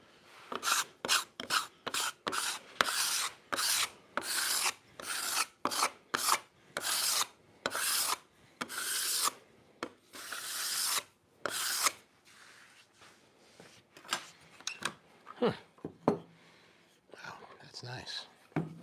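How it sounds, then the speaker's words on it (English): A card scraper pulls across figured wood in a rapid series of short, crisp rasping strokes, loud and close, thinning to a few lighter scrapes and handling noises toward the end. "Let's just do a little bit of our card scraping."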